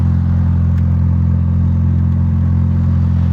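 A Ford Focus ST fitted with a turbocharged Volvo engine idles steadily, a loud, constant low rumble with faint clatter and no speech.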